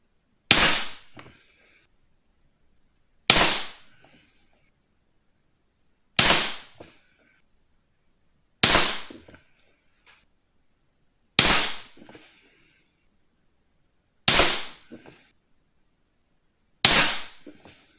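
Seven spaced shots from a Beeman P17 air pistol fired indoors at a 10 m target, each a sharp, loud crack with a short tail, repeating every two to three seconds against near silence.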